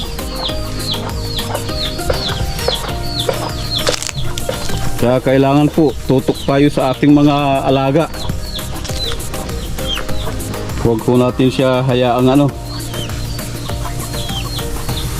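Backyard chickens cluck and chatter steadily through the scene, with a hen that has chicks nearby, while a person talks over them at close range.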